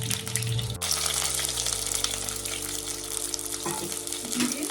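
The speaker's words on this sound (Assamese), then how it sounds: "মিঠাতেল গৰম হোৱাৰ পিছত মই তাতে পিয়াজ দিম" Onions frying in hot mustard oil for a clay-pot mutton curry, a loud continuous sizzle and crackle filling the whole stretch, with a few faint clinks underneath.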